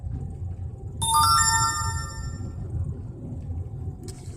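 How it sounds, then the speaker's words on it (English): A smartphone chimes once with a bright ringing notification tone that decays over about a second, heard outdoors at night near a lake over a steady low traffic rumble. "I just got some kind of sound notification on my new Obamaphone."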